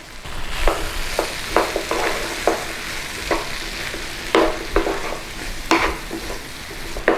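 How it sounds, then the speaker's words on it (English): Chopped apples for apple pie filling sizzle and cook down in a pan, a steady frying hiss broken by irregular scrapes and clacks of stirring. "we're just going to cook down the apple a little bit. Nice and easy. Just cook it down."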